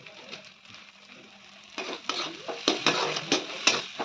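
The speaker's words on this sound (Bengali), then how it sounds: "এবার আস্তে আস্তে বেশ ভালো করে নাড়িয়ে নেবো, মশলাটাকে বেশ ভালো করে কষিয়ে নেবো" A spoon scrapes and clatters against a pan as Bengali masala paste with torn Kashmiri red chilli is stirred and fried in oil, with soft sizzling underneath; the stirring strikes grow louder and more rhythmic partway through.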